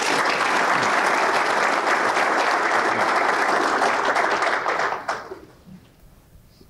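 A large audience claps loudly for Nicolae Păun, president of the Pro Europa Roma Party, in a dense, sustained round of applause that fades out near the end and leaves a quiet room.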